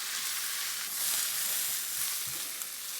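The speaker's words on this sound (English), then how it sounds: "we want to fry that onion down until it gets nice and golden around the edges" Sliced red onion fries in a pan with a dense, even sizzle, close and steady throughout with a few faint soft clicks underneath.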